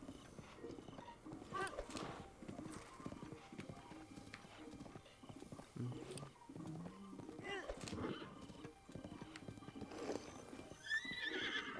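A horse ridden in Zelda Breath of the Wild, with steady clip-clop hoofbeats in a regular galloping rhythm, faint and under light speech, plus a neigh near the end.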